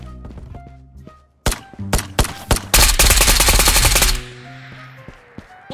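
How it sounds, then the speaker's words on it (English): Close, loud gunfire in the VR shooter Ghost of Tabor: a few sharp single shots, then a rapid automatic burst that hammers on for over a second before ringing out, with scattered thuds after. "I don't like those shots right by me or that nade right next to me."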